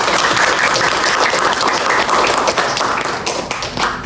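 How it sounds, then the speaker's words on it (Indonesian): A seminar audience on writing publishable articles breaks into steady, loud applause, a dense wash of many hands clapping that fills the whole stretch without pause. "beri aplaus untuk Anda sekalian"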